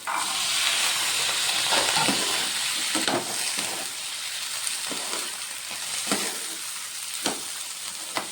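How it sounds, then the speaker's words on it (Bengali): Boiled peas tossed into spiced potatoes and fried for ghugni, giving a steady close sizzle with occasional stirring scrapes and clinks throughout, no talk. "দিয়ে দেবো সেদ্ধ করে রাখা মটর"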